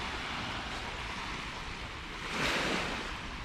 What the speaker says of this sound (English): This is definitely the best sunset beach.